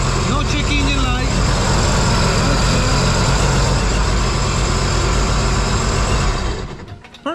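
A 2015 Sea-Doo GTX iS Limited 260 personal watercraft engine idling out of the water, a loud, steady low drone with even rumble throughout that cuts off near the end.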